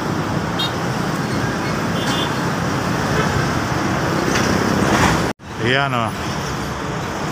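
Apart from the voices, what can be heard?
big distributor trucks passing on the road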